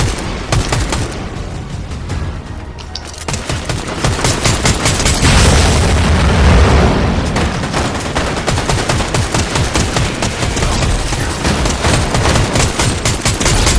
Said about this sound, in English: focus all your fire just on Zeus